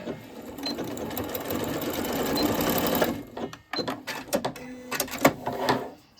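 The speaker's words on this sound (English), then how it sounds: "I'm going to take it to my sewing machine. I'm just going to run some stitches on both sides" A sewing machine runs in a steady buzzing burst for a few seconds, then stitches in short, stop-start spurts.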